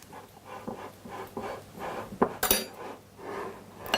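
Parmesan, baking powder and salt stirred together in a bowl, with rhythmic close scraping and light clinks of a utensil against the bowl and a sharper knock partway through.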